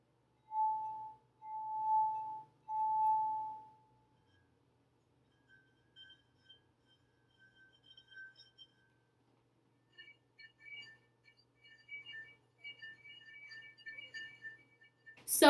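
A drinking glass rubbed around its rim sings with three clear, sustained pure tones in a row, followed by fainter, scratchier attempts on a square-rimmed glass that produce thin, broken ringing.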